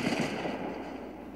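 Rapid gunfire in the battle royale video game Fortnite, a dense continuous burst of game shots running at steady loudness through the whole moment, with a sharper hit at the end.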